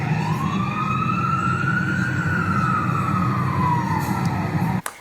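An American emergency vehicle siren wails, its pitch rising slowly then falling again in one long sweep over steady road rumble, fairly close and loud.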